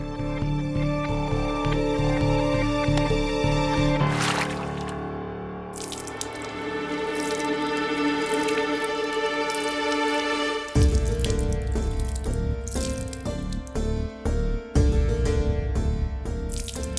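Water pours from a bucket over hands being washed, a long continuous splashing stream that breaks into uneven gushes and drips toward the end.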